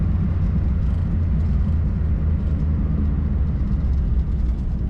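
A 1963 Ford Falcon Futura convertible cruising down the road, a steady low engine drone mixed with constant road and wind rumble, close and unbroken throughout.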